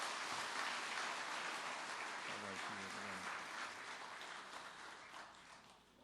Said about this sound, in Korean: 이제 인사할 때 여러분 뜨거운 박수로서 이를 영접해 주시길 바랍니다.